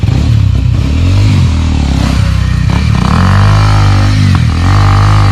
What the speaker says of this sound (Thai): ขี่ขึ้นเนินไม่สวยไล่ลงไปใหม่หมดครับผม